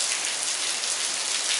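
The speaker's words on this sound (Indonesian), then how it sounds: "Nanging terkendala cuaca sakedik hujan." Light rain falls steadily outdoors, a dense even hiss of drops on surfaces with no breaks, close and fairly loud, with no voices over it.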